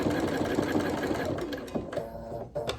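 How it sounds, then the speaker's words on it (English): A sewing machine runs steadily, stitching along the edge of a fabric face mask at a 2.0 stitch length, with a continuous close whirring hum and brief pauses near the end. "Just stitch right along the edge."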